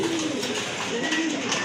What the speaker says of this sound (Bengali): মাশাআল্লাহ আরেক জোড়া কবুতর